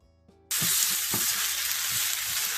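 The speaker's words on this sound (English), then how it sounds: "That sear that we saw on the vegetables, we need to get that on the noodles too." Yakisoba noodles sear in a hot pan with a loud, steady sizzle that bursts in suddenly, with a few soft stirring knocks underneath and no talking.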